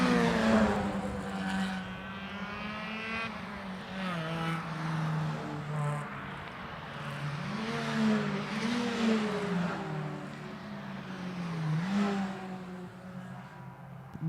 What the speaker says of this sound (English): Another car on the pit road, one of the flat-out motorsports entries, the number 192 coming in.